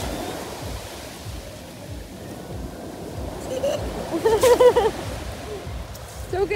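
Continuous surf and wind noise of sea waves rolls along, swelling louder toward the end, with voices and a brief tonal call mixed in.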